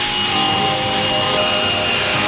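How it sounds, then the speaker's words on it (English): A drill-mounted brush scrubs wet vinyl with plain water, giving a loud, continuous whirring and rubbing hiss that stays steady throughout with no talk. "we're just going to use a bucket of water here and my force multiplier, aka a brush on a drill"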